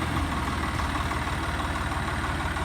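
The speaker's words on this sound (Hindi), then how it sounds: "जाओ भैया जाओ, जा रहा है बस ट्रैक्टर।" A tractor engine runs close by with a loud, steady low diesel chug and rapid regular pulsing that holds at a constant level throughout, with no talking.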